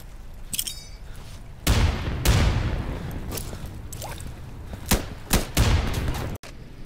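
A frag grenade goes off with a heavy boom during an Insurgency firefight, surrounded by sharp, loud gunshot cracks and further blasts that echo in quick irregular succession.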